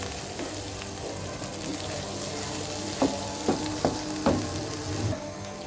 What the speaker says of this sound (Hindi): मसाले की अच्छे से भुनाई हो चुकी है। ये देखिए माशाल्लाह ऑयल सेपरेट हो गया इसका।